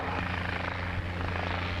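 A helicopter arrives at a fly-in event at Brooklands, its rotor and engine giving a loud, steady thudding drone close by for the whole brief moment, with no voices.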